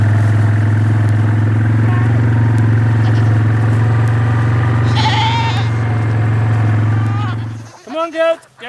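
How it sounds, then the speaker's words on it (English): Goats bleat several times over a loud, steady engine-like drone, with the bleats becoming clearer and closer as the drone cuts out at the end. "Come on, goats, goats, goats, goats."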